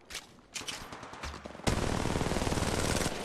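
Rapid automatic gunfire in the video game Apex Legends Mobile, scattered shots at first, then a loud sustained burst of rattling fire.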